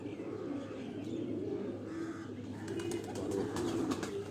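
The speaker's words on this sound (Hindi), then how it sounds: "ये गोल्डन कबूतर" Golden pigeons coo in low, rolling calls close by, with a few sharper chirps near the end over a steady background hum.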